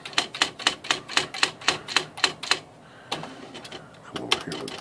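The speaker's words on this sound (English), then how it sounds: "so let's go here and we'll type in" Rapid, evenly spaced keystrikes clatter from a typewriter set to 10 pitch, about a dozen sharp strikes in a steady run, then a pause and a second shorter, softer burst of keys near the end.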